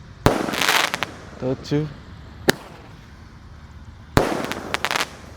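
A 1-inch Roman candle firework fires about three sharp, loud shots spaced a second or two apart, each followed by crackling fizz, while a nearby voice counts aloud.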